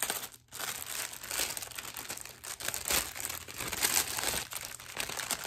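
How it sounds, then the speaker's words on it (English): Plastic packaging around a diamond painting kit crinkles and tears as it is unwrapped, a busy run of close, fairly quiet rustles and crackles with brief pauses and no voices. "I'm going to try to unwrap this real quick and show you the colors"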